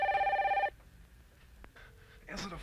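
An old-style telephone bell rings loudly in a short burst of rapid trills, then cuts off; a brief electronic tone and a muffled voice follow in a movie action scene.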